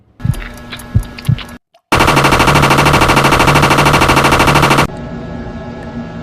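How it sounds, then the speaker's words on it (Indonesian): Rapid automatic gunfire in the zombie video game Polsek Mua, a loud, close, evenly pulsing burst lasting about three seconds after a few scattered clicks and a brief silence. "ia pun langsung mengambil senapan yang terjatuh dan menembak si zombie tersebut"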